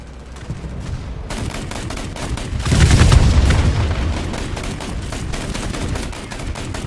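VEAK 40 self-propelled anti-aircraft gun firing in the War Thunder video game, rapid bursts of cannon fire with booming reports that swell in the middle over continuous battle noise.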